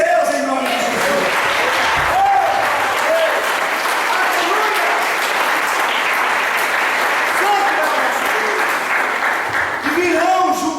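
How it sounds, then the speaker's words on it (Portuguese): Church congregation clapping in sustained applause during a sermon, loud and continuous, with a voice calling out over the clapping at times. "aplauda esse Deus em nome de Jesus."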